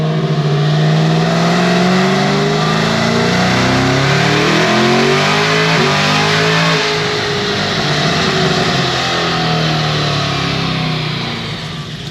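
A 1200-horsepower Stage 5 Cadillac CT5-V Blackwing on stock tires accelerates hard through the gears. Its loud, close engine climbs in pitch, drops at each shift and climbs again, then eases off at the end, with no voices.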